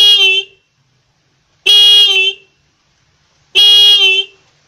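A car horn modified with a capacitor for a bassier tone honks three times, loud and close, each blast about half a second with a brassy buzzing tone and silence between.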